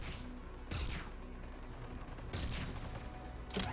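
Video game gunfire booms in three loud, separate blasts spaced about a second and a half apart over a steady, noisy background of game sound.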